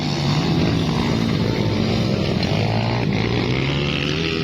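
A motorcycle engine races in a steady, loud, continuous roar close by, its pitch rising and falling slightly as it revs, with no talking over it.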